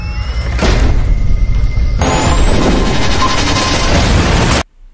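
A loud explosion in an Indonesian-narrated action film about a revenge robot, a heavy broadband blast swelling into a sustained rumbling roar with a rising whine, cutting off abruptly near the end.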